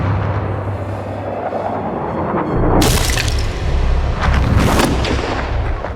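A sharp, loud gunshot cracks out amid rumbling battle noise, followed by further booming blasts and clattering.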